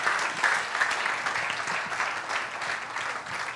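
Congregation clapping at a church service, a moderate ragged burst of applause with uneven individual claps rising and falling throughout.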